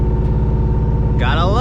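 A BMW X3M engine runs with a steady, deep idle rumble, and a voice speaks briefly near the end.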